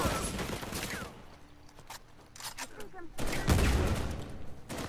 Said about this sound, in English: Someone's shooting me from this side.